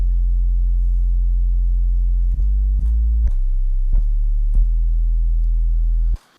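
A Bitwig FM-4 synthesizer plays sustained sine tones with faint overtones. Steady pitches step to new notes every half second or so, loud and clean, then cut off sharply.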